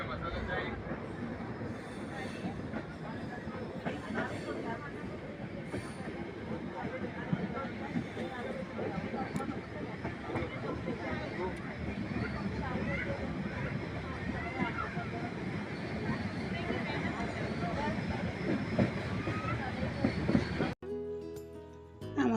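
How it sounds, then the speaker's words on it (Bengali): A train rolls steadily along the rails on a long journey toward Pune, a continuous close rumble of wheels and carriage noise with faint voices in the background, ending with an abrupt change near the end. "বেশ অনেকটা পথ আমাদের ট্রেন পেরিয়ে এসেছে।"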